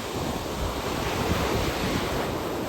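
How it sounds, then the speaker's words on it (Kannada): Ocean waves wash onto a beach at sunrise near Mamallapuram, making a continuous soft surf rush mixed with gusty wind buffeting the microphone, with no voices. "ಈ ಸನ್ರೈಸು, ಈ ಬೀಚು, ಅಲೆಗಳ ಶಬ್ದ ನನಗೆ ತುಂಬ ಇಷ್ಟ ಆಗುತ್ತೆ"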